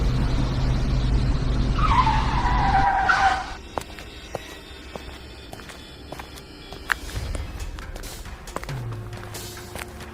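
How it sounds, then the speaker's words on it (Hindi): A truck on a lonely forest road brakes hard, its loud tyre-and-brake screech rising and falling for a few seconds before cutting off, leaving a low engine rumble with scattered clicks and knocks. "ब्रेक की आवाज जंगल में गूंजती है।"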